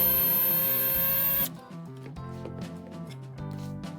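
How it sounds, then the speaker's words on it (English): A blender whirs loudly at a high, steady pitch while grinding roasted hazelnuts with powdered sugar, then cuts off sharply halfway through, leaving soft background music. "Then, blend them with an equal amount of powdered sugar."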